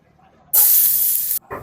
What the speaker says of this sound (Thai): ใส่กระเทียมไปแล้วก็เจียวกระเทียมให้ส่งกลิ่นหอมขึ้นมานะครับ